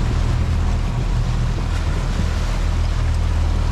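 Fishing boat cruising offshore on the ocean at sunrise, giving a steady, loud engine drone with low rumble and continuous wind and water rush, no voices.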